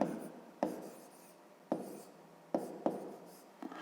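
Pen writing by hand on paper during a fifth-grade math exercise, with soft close scratching strokes broken by several sharp taps as the pen lands on the page, mostly quiet between marks.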